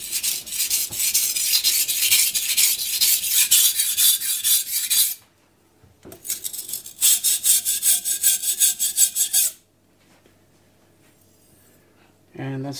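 Steel blade stroked back and forth across a Miyagoshi whetstone, a dense rhythmic scraping rasp in two long bursts of repeated passes with a pause between, close and loud, and a brief scrape at the end.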